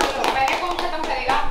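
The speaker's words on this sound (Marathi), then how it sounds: "प्रोत्साहन द्या टाळ्यावाजून" People clap in an uneven, rhythmic pattern to cheer on competitors before a biryani eating contest, close by, with voices talking over the claps.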